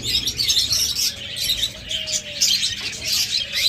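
Pet budgerigars, cockatiels and lovebirds kept for sale chatter together in a busy flock, with high, overlapping chirps and tweets continuing close by.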